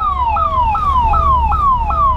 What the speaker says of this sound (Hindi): इस वजह से आपको ज़्यादा एम्बुलेंस नज़र आ रही है।